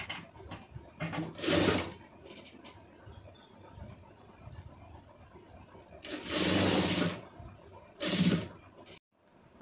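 A sewing machine stitches thread piping onto two layers of cloth, running in bursts of a few seconds each, with quieter handling sounds in between and no talk.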